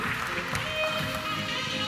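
An audience at a business conference applauds to welcome the panel speakers. The clapping is a dense, steady wash of claps that lasts the whole short moment, with no voices on top.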